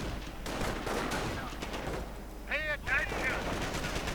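Sniper and machine-gun fire rattles through a World War II real-time strategy game match, sharp bursts of shots with whistling ricochet-like effects, heard under continuous play-by-play commentary from a caster.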